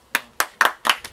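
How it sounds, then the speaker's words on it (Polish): Five slow, sharp hand claps, close and evenly spaced, in applause for an ice swimmer after an ice-water endurance duel. "Ale w każdym razie brawa się należy"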